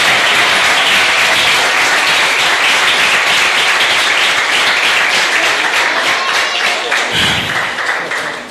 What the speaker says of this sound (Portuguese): Aplauda ele, então.